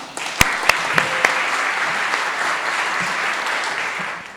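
A congregation at a religious coming-of-age ceremony gives a sustained round of applause, a few sharp, distinct claps at the start merging into a steady, even wash of clapping throughout.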